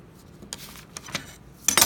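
Knife cutting through a slab of clay into cubes, a few sharp clicking taps against a hard surface, close and brief, ending in a louder scraping clatter.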